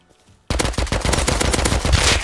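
SKS rifle fire in the survival game Rust: a loud run of rapid, evenly spaced shots after a brief quiet start, continuing steadily to the end.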